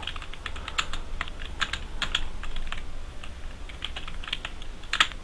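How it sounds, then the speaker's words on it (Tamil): Steady, fairly quiet typing on a computer keyboard, a run of rapid uneven key clicks with brief pauses and one sharper tap near the end, heard alone with no talk. "இது மாதிரி டைப் பண்ணுறோம்."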